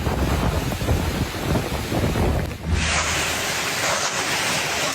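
Strong wind from Super Typhoon Uwan in the Bicol region roars and buffets the microphone in a constant, heavy rush, with a sudden shift in the gusting partway through.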